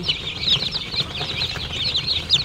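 A brood of about ten newly hatched purebred chicks peeps continuously in high, rapid overlapping cheeps, close by and fairly loud over a low background rumble.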